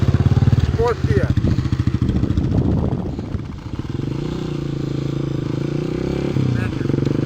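Dirt bike engine revving and shifting up through the gears, loud and close, with the engine note rising and settling into a steady drone; a rider talks over the first few seconds.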